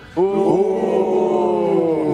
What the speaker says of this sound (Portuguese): Uma vaia pro Zinho?